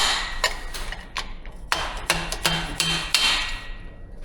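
A 49 mm seal driver is hammered to seat a fork seal in a Kove 450 Rally's suspension, giving a string of sharp, close metallic strikes at uneven intervals, some rapid and some spaced, with no talking.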